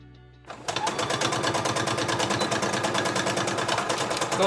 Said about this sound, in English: I like to back stitch at the beginning and the end just to make sure that that's gonna get cut there.